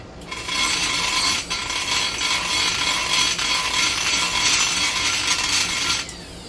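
A carbide burr grinds the radius between valve seat and throat in a cylinder head port being opened from 1.94" to 2.02" valve size, a steady close high-pitched rasping whir that runs continuously for several seconds before stopping abruptly.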